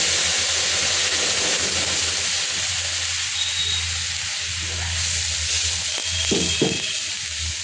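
Water poured into a hot pan while cooking, a broad steady hiss and sizzle that eases off, with a couple of faint utensil knocks near the end.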